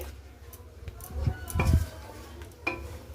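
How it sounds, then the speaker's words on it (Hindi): Curd stirred with spices in a frying pan while it cooks, a spoon scraping and knocking against the pan in short bursts, a faint sizzle underneath, a voice talking over it. "इस तरीके से आप चलाते हुए मसालों के साथ दही को अच्छे से मिक्स करते हुए आप इसे भून ले"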